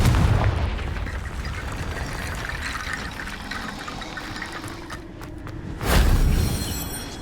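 A spell blast from the Confringo charm in Hogwarts Legacy, heard as a booming explosive burst near the end over a continuous rushing, watery game ambience, with no voices.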